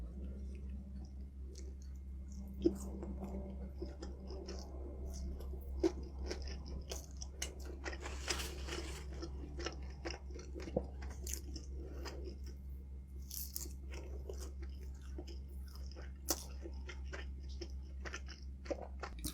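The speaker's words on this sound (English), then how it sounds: "This is my first time trying the crispy pata." Close-up crunching and chewing of crispy pata, a deep-fried crispy pork knuckle, with repeated crisp bites and wet mastication clicks over a steady low hum, no talking.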